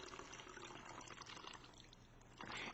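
Water pours and streams from three holes punched down the side of a milk carton, a steady splashing trickle that runs continuously and swells louder near the end.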